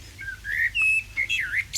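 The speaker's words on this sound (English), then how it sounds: "But then that quiet is broken by a single blackbird." A single blackbird sings at dawn in misty quiet, giving clear fluty whistled phrases with rising and falling notes, fairly close and heard alone over a faint low background.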